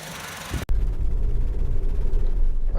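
A Honda Civic 1.8 i-VTEC EX petrol five-door engine runs with a steady, close, low rumble after a brief thump at the start.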